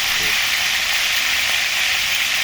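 Tuna tail frying in oil makes a loud, steady, close sizzle with a continuous bright hiss and no pauses.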